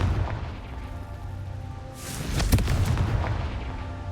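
A fiery Confringo spell goes off in Hogwarts Legacy, a sudden loud explosive burst rising from a low rumble and then crackling and fading over the next second or two.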